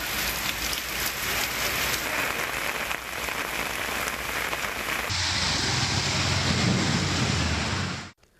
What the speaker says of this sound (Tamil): வட சென்னையில் பலத்த மழை பெய்தது.